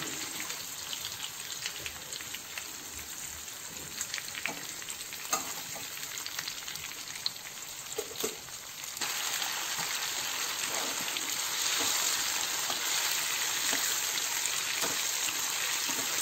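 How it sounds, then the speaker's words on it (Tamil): Pomfret fish fries on a tawa with a continuous close crackling sizzle, a few light clatters along the way, growing louder and denser in the second half. "கொஞ்சம் அதில் ஃப்ரை பண்ணி நல்லா குக்காக இருக்கும்"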